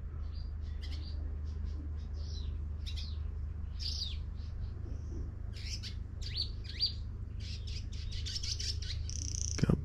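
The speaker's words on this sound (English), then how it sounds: "birds chirping" Many small birds chirp and tweet in quick, scattered calls in a Thai rainforest at Khao Sok over a low constant rumble, lively and continuous at moderate distance.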